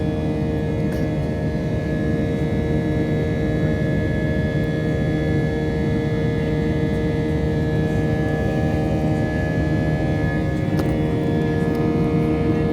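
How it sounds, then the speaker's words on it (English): Steady, loud broadband roar with a low drone fills an airliner cabin during the climb to cruising altitude on a flight from Colombo to Bangalore, unbroken throughout with no talking. "we are starting to level the wings out to gather more speed in order to continue the climb to cruising altitude"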